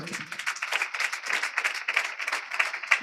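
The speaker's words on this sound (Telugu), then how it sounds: "గట్టిగా చప్పట్లు కొట్టండి" A congregation at a Sunday church worship service claps steadily and densely for several seconds, a sustained burst of applause filling the room.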